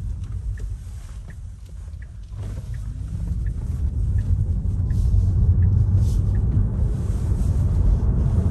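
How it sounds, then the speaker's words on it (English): A car engine builds a steady low rumble that grows louder and fuller over several seconds as the vehicle accelerates through a corner, heard from inside the cabin with faint wind noise and no talk. "When we accelerate around the corner"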